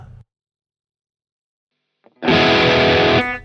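Squier Starcaster Classic Vibe electric guitar through a British-style distortion tone, a loud, heavily driven chord that bursts in after near silence and rings for about a second before cutting off.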